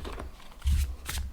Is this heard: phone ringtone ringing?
no